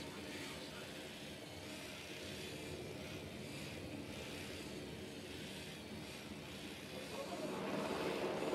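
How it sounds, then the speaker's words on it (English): Steady airborne engine drone from a surveillance drone in Ghost Recon Wildlands, a continuous broadband whir holding level throughout and swelling slightly louder near the end. "Drone is airborne."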